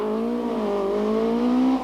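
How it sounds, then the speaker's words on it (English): Nissan-engined Toyota rally car at a stage rally start, a close, steady engine drone with a slight rising rev as it pulls away from the line, loud and continuous for under two seconds. "Eamon McAleenan comes off the start line in his Nissan engine Toyota for what will prove to be a very short rally."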